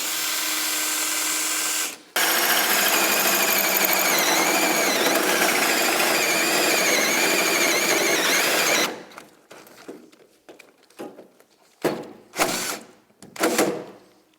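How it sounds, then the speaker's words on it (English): A hole saw on a drill cuts a hole during a cooler install on a VK1000 Turnitrobeast, with a brief start, a stop, then a long, loud, steady grinding whine, followed by scattered metallic knocks and scrapes. "Got my hole saw."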